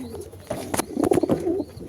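Pigeons coo softly and repeatedly, several low throaty calls overlapping close by, with faint rustling in the background, from nesting pigeons sitting on eggs.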